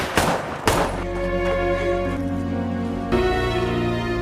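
A rifle gunshot: two sharp, loud cracks close together near the start, followed by a long, ringing, tonal decay with no voices.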